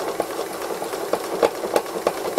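A sewing machine stitches free motion embroidery of a robin design, a steady mechanical hum broken by faint rhythmic clicks at close range with no voices.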